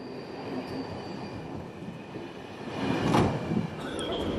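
Passenger train number 450 bound for Belgrade rumbles along steadily at a moderate distance, a low continuous rolling noise that swells briefly with a sharper clatter partway through.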